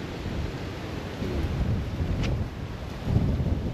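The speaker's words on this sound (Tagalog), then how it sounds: "Mahangin na naman." Wind rushes past the microphone in a low, continuous rumble with a few stronger gusts swelling near the end.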